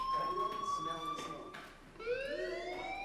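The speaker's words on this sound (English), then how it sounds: "Hey, do you hear that fire alarm?" A fire alarm sounds in the video game Life is Strange, a loud, continuous electronic tone that holds steady and then sweeps upward near the end.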